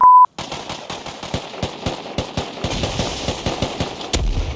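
Video game gunfire: a brief beep opens, then rapid, evenly spaced shots crack one after another, a steady automatic rhythm that swells into a louder final burst near the end, with no talk.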